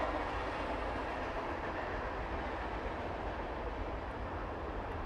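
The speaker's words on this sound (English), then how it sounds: "Train!" A passing train rumbles as a steady, broad, fairly quiet roar heard from outside near a smithy, continuous throughout with no talk over it.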